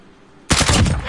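Loud gunfire at a building in a video game: an abrupt, close burst of rapid shots that bursts in after a quiet moment and stays dense to the end, with no voices.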